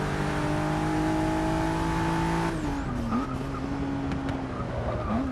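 A 2017 Ford GT race car in Forza 6 at Brands Hatch revs hard, its engine note dropping and wavering as the tyres squeal while the car slides sideways through a corner, loud and close throughout.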